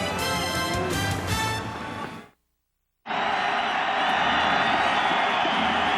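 A crowd of 26,000 cheers at Commonwealth Stadium during a 1998 CFL West Semi-Final football game between the BC Lions and Edmonton Eskimos, a broad roar under commentary, cut by a brief silent gap before swelling again.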